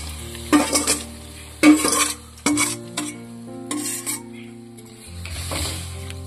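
Mango pieces in sugar syrup go into a hot wok for Burmese-style mango pickle: a few loud scraping stirs and clatters over a soft sizzle, with faint music underneath.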